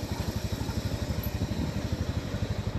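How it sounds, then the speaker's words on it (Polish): A scooter engine running in Thailand, a steady low, throbbing putter with regular pulses close by, continuous without talk. "na skuterze w Tajlandii wszędzie się jeździ"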